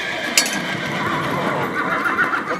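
A horse whinnies loudly during a cavalry charge reenactment at Castell de Sant Ferran in Figueres. Hooves clop underneath and a busy outdoor crowd murmurs around it.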